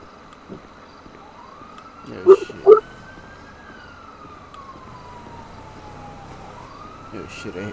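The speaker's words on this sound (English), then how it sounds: "I hear sirens" A police siren wails steadily in the background, rising and falling slowly across the whole stretch, while two short loud knocks land near the middle and faint movement sounds sit underneath.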